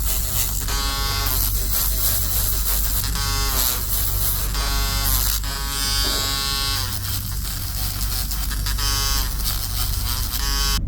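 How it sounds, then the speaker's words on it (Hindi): Electric nail file shaping gel nail extensions, a steady high-pitched motor buzz running continuously and close up, with small shifts in pitch as the bit presses against the nail. "अब मैं इसकी हेल्प से थोड़ा इसको फाइल करूँगी"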